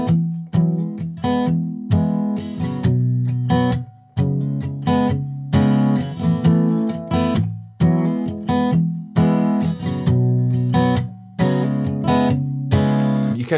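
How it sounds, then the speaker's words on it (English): Muted strumming on a guitar in a verse pattern, a steady rhythmic chug of choked strums cut by brief gaps, with ringing chords breaking through on the upstrokes, played close and alone. "a lot of it's muted strumming for the verse"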